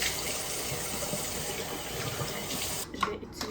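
Water runs steadily from a bathroom tap while makeup is rinsed off, a soft continuous splashing hiss that cuts off near the end, leaving a few faint drips and clinks.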